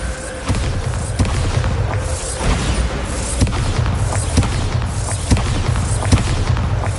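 A Bombarda explosion spell from Hogwarts Legacy goes off in a loud run of repeated booming blasts and thuds, several heavy hits arriving about once a second over dense rumbling game noise, with no talk.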